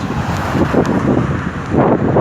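Wind blows outdoors in strong, uneven gusts, a loud broadband rumble that buffets the microphone throughout, with no voices.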